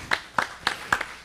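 Four sharp hand claps from a church congregation, evenly spaced and fairly close, ringing out alone without talk.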